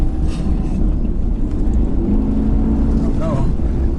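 A heavy pickup truck over 7,000 pounds with a tonneau cover driving off-road, a loud low rumbling engine and rolling drone throughout, with a brief rising whine near the end.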